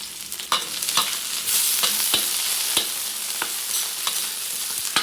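Steady sizzling of onion and garlic sautéing in a hot pan, with scattered crackles and pops and the occasional scrape of stirring, no voices.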